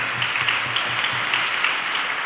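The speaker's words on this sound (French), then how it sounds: "On nous applaudit s'il vous plaît" A concert crowd applauds in a thick, sustained patter of many hands clapping, moderately loud and even throughout, with no speech over it.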